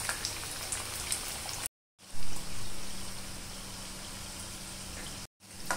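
Vegetable cutlets frying in oil in a pan over a medium flame crackle with a continuous, rain-like sizzle, broken by two brief silent gaps.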